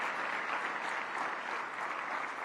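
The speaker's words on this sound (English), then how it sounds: "I want to give Elliot Ferguson and the entire team at Destination DC a huge round of applause" Sustained applause from an audience at a Washington DC marketing outlook meeting, honoring the Destination DC tourism team; steady dense clapping holds evenly throughout at moderate distance, with no speech over it.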